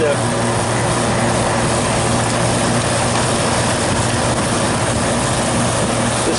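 A refrigeration compressor runs steadily while pumping down a dryer system, a constant mechanical hum with a low tonal drone and broadband noise, loud and unchanging, with someone talking over it.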